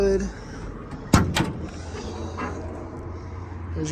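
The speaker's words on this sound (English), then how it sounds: "Pop the hood." A single sharp metallic clunk and rattle near the start, like a hood latch releasing and the lid lifting on a restored 1969 Ford Mustang Mach 1 428 Cobra Jet, amid quiet background noise.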